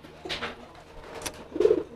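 A market-bought pigeon coos, with soft, throaty rumbles building into a louder coo near the end of a quiet, close recording.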